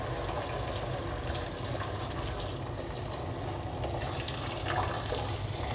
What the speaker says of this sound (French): Et là je rajoute l'eau.